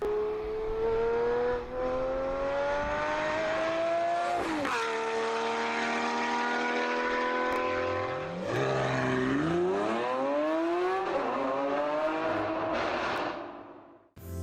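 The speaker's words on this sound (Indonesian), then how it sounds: "supercar akan selalu memiliki suara yang sangat merdu untuk didengar seperti ini" A supercar's engine revs and climbs in long sustained howls, dipping between gear changes and surging again, loud and close with a whining, harmonic-rich tone and no voices.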